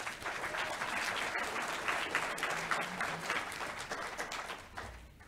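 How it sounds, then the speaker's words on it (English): A graduation ceremony audience applauds Dr. Hobbs with sustained, dense clapping that holds steady for several seconds, then thins near the end. It sounds like a large hall, moderately distant. "Please give Dr. Hobbs another round of applause."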